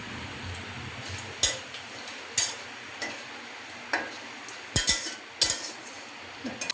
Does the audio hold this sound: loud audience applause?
no